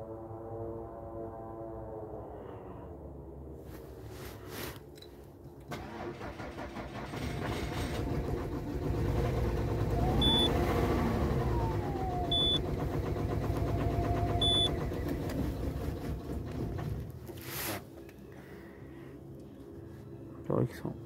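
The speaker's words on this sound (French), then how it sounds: "On va essayer de redémarrer." Peugeot 407 2.7 HDI V6 diesel with a faulty cylinder 2 injector circuit, cranked for a restart after stalling: a steady churning crank and rough engine rumble builds for several seconds, then cuts out, with people talking nearby.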